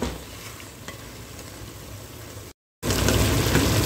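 Meat and potatoes bubbling in a covered pot, a steady close hiss and simmer that cuts out briefly and then returns louder.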